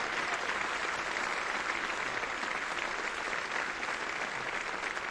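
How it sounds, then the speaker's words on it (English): Dense, even applause from a luncheon crowd at a Rotary Club gathering, honoring the program chair and his committee; a continuous wash of many hands clapping at steady volume throughout, with no voices standing out. "would you please applaud this gentleman and his"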